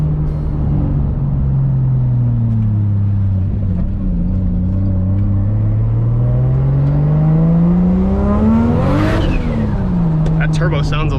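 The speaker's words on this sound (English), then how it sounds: "That turbo sounds a lot better too." A Toyota Supra fitted with a bigger turbo revs loudly and steadily, its engine note dipping and then climbing to a sharp peak before settling, with people talking over the engine.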